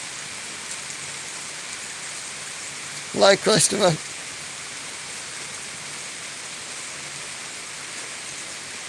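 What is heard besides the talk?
heavy rain in the mountains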